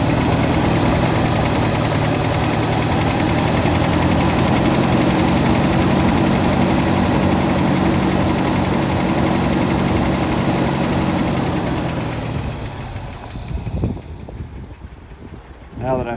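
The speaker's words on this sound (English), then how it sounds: "She's idling kind of rough still because it's cold." A cold 1967 Lincoln engine idles roughly, a loud steady low rumble with uneven pulsing for most of the stretch, then it dies away and brief knocks and handling sounds follow.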